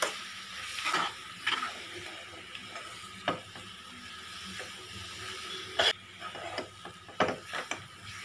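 Rava ladoo mixture being stirred with milk in a pan, giving soft scraping and stirring sounds in irregular bursts with quiet gaps, fairly close and low in level, with no voices.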